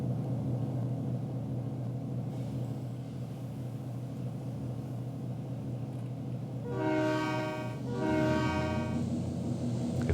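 A GP9 diesel locomotive in Pennsylvania & Berwind railroad operations rumbles steadily, then sounds its horn in two loud sustained blasts near the end.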